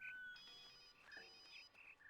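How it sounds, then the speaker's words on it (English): A cell phone ringing faintly, a thin electronic ringtone of short warbling tones repeating over a quiet background. "Cell phone."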